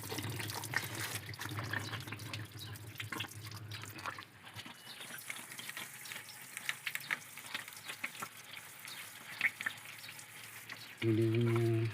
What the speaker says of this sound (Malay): Kita dah flashing air ni yang kotor semalam lah. Menggunakan air pipe tekanan tinggi lah.